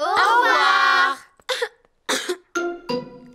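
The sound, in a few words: cartoon characters coughing in Peppa Pig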